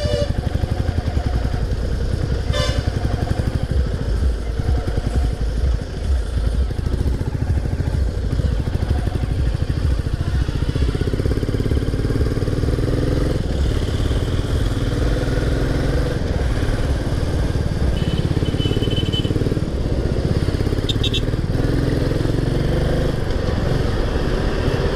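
A motorcycle engine drones loud and steady on a forest road through the Sathyamangalam Tiger Reserve, with shifting revs and some rattling clatter, heard close without any talking.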